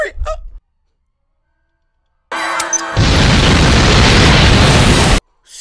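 A bomb explosion in the action comedy film Rush Hour 2 bursts after a brief silence, a loud close boom followed by a sustained roaring rumble of debris that cuts off abruptly.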